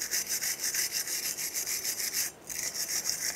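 A wire brush scrubs rust off the front brake hub of a 2002-2005 Chevrolet Trailblazer, giving a continuous rhythmic rasping in fast back-and-forth strokes with one brief pause, close and alone with no talking.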